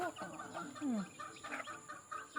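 Backyard hens cluck softly near a batch of newly hatched chicks, with short clucks and a thin chirp scattered over about two seconds at low volume.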